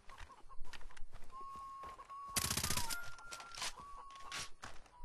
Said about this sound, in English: the Bushman is a silenced, fully automatic assault rifle